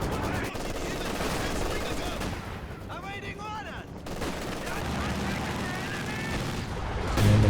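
Maxim machine gun laying down suppression fire in a Company of Heroes 2 match, with rapid bursts and distant booms of battle rumbling continuously under a commentator's voice.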